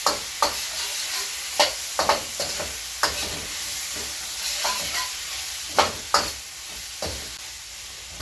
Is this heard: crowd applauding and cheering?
no